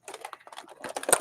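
Computer keyboard keys are pressed by accident at a desk while WWE Hulk Hogan figures are unboxed, a quick irregular run of close clicky taps ending in a sharper cluster.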